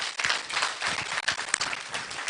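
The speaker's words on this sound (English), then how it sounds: "Clap for yourself." Audience applause for Ken Ohene Agyapong at a delegates' meeting in Lambusi: steady, dense clapping from a crowd that carries on for the whole stretch without a break.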